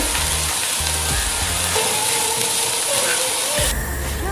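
Tomatoes and peas sizzle and fry in a hot pan for a pizza puff filling, a steady loud hiss with a few stirring scrapes, and rhythmic low thumps run underneath throughout.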